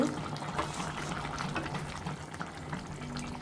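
Water pours into a cooking pot of vegetable curry on the stove, a steady near splash and trickle with a faint low hum beneath, continuous and moderately quiet throughout.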